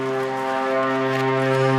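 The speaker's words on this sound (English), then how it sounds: "Airplane noise, don't you love it?" Aircraft noise at an airfield, heard during a walkaround of a parked Cessna 310R: a steady, tonal engine drone with strong harmonic hum that swells slightly louder, alone without talk.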